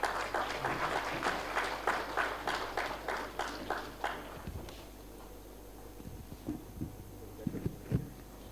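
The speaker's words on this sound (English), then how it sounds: "A huge round of applause, ladies and gentlemen" Audience at a startup business conference applauding, with a dense burst of claps fading out after about four seconds, followed by a few scattered claps and thumps.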